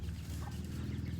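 Wild chicken clucking in a Balinese village, steady soft clucks at moderate distance with no talk over them.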